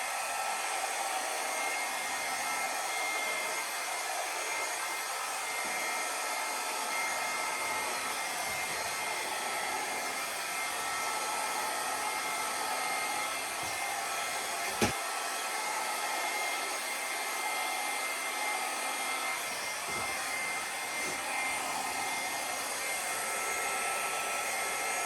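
A hair dryer blows acrylic paint across a Dutch pour canvas in one unbroken, loud, steady whoosh that holds for the whole stretch, with a single faint click partway through.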